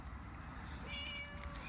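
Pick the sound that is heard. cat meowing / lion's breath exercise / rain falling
cat meowing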